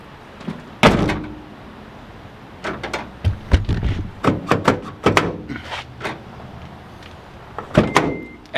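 Doors on a Honda car shut and latch after a reinstalled door actuator is tested, giving a series of close, sharp thuds and clunks with softer mechanical clicks between them.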